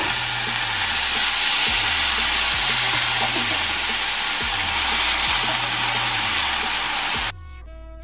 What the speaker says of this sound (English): make sure that you flip the bacon over so the other side gets cooked as well